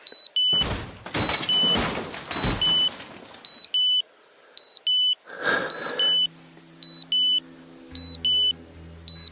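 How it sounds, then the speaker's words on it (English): A van alarm goes off in a camping setting, a loud run of repeated electronic beeps in a regular on-off pattern, joined by a few bangs early on and a low tone near the end. "But the alarm went off and I think it scared him off."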